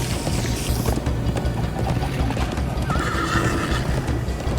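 A horse galloping with rapid clip-clop hooves and a loud neigh in the Minecraft Story Mode video game, with dense action effects around it.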